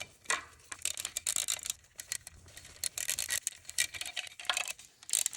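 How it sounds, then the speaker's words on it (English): A 1/4 inch drive ratchet tightens bolts on a BMW N20 engine in a 328i. Its rasping, irregular clicks come in quick, fairly quiet bursts close by. "using just a 1/4 inch drive ratchet, you can slowly start to wrench this down"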